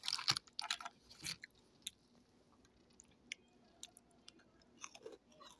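Crunchy bites and soft chewing on a biscuit, close up and quiet, with irregular bursts early on and scattered small crunches afterward and no talking.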